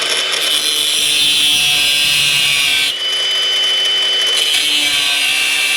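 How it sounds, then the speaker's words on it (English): An angle grinder cuts through a metal flange during work on a 1953 GMC torque tube bracket, whining loudly and continuously up close with a brief dip midway. "we'll just use the angle grinder to cut this flange"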